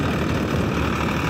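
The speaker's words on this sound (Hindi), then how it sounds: "तो आप देख सकते हैं इसको ये ट्रैक्टर खींच रहा है, कितनी ज़बरदस्त परफॉर्मेंस है।" A modified Ford 3610 tractor engine labours in low L2 gear while pulling an 8.5-foot super seeder through a field, a loud, continuous, close diesel drone.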